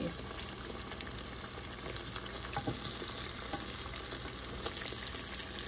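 Breaded green tomatoes frying in hot oil in a pan, a dense, steady crackling sizzle that carries on unbroken and close, with no one speaking.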